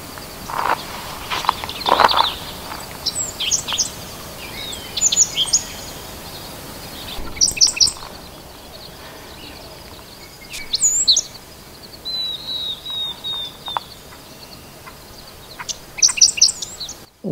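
A five-striped sparrow and other birds call in an Arizona canyon, with scattered high chirps and short song phrases, some near and some farther off, separated by quiet gaps and faint rustling.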